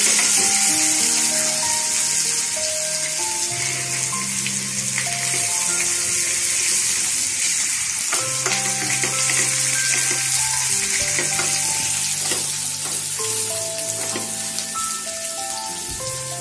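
Julienned green chili, garlic and ginger sauté in hot oil for Amritsari chhole, a steady close sizzle with a bright rain-like hiss that carries on unbroken and fairly loud throughout.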